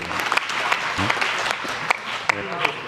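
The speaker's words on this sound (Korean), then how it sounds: "연구하시는 분들은 박수도 쳐주고 그래야 되는데" Scattered clapping from a small group, a few sharp claps standing out, with speech continuing underneath.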